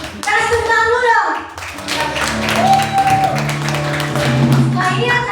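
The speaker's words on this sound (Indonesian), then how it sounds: "Kasih tepuk tangan dulu dong" Audience at a youth and teen Christmas church celebration clap for prize winners, a mix of scattered and steady hand claps running throughout, with voices and tones sounding alongside the clapping.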